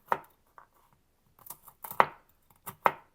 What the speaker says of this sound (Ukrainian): Я трішечки нарізаю горіхи